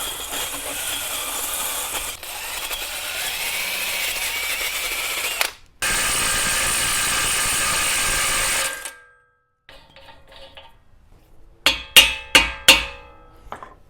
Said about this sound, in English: I'm going to wire wheel this axle shaft.